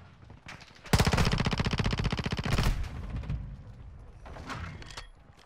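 Sustained bursts of automatic gunfire from the video game Call of Duty Modern Warfare II, loud and rapid, with a long dense volley followed by scattered shots and mechanical clatter.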